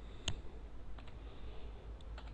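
A computer mouse clicks on a file in a quiet room, one crisp click followed by a few fainter ticks.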